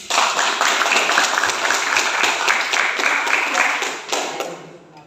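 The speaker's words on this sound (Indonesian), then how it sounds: "kita kasih tepuk tangan" Hands clapping from a classroom audience of teachers, a dense burst of applause lasting several seconds before tapering off at the end.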